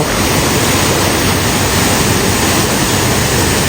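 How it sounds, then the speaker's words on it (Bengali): Hill waterfall at Nafakhum in Bandarban, a loud, steady roar of falling water that fills the whole clip without a break, with no voices over it. "পাহাড়ি ঝর্ণার যে শব্দ"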